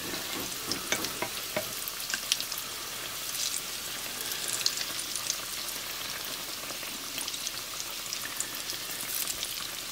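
Apple fritters fry in hot oil at about 200 degrees with a continuous soft crackling sizzle and scattered pops, close and steady with no talk.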